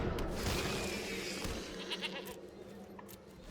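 A goat bleat from the card game MTG Arena, a wavering, nasal cry that stands out briefly amid a noisy, hissy game soundscape, with no talking.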